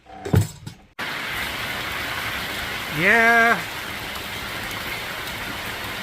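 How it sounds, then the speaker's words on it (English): Steady rain falls outside in an even hiss, interrupted briefly by a short burst of voice at the start and a rising-falling whistle-like tone midway. "I'm not the only one sick of the rain currently."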